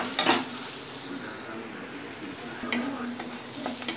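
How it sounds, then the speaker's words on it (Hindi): Onions fry gently in a kadhai with a soft, even sizzle, punctuated by a couple of quick metallic clinks from a stirring utensil. "और प्याज को आराम से आपको भूनना, कम से कम 5 से 7 मिनट तक"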